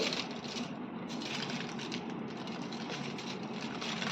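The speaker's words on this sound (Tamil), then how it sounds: "இந்த மாதிரி ஒரு ஃபாயில் ஷீட் வச்சு அதில் மடித்து" A foil sheet is folded and rolled around a paneer kathi roll by hand, giving a steady, close crinkling and rustling that continues without a break and with no one talking.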